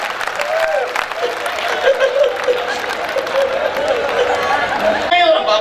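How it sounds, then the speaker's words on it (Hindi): Audience applause at a kavi sammelan poetry gathering, continuous crowd clapping with chatter and some laughter mixed in while a voice carries on over it, fairly loud throughout. "सारे लोग ताली बजा रहे"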